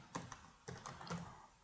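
A few quick keystrokes tap on a computer keyboard while the word sitemap is typed into a search console field, faint and close, in two or three small clusters of clicks.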